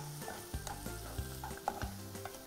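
Onion and tomato sizzle gently in oil in a pan for paneer butter masala, a soft steady frying hiss broken by occasional stirring scrapes and clinks, close and quiet.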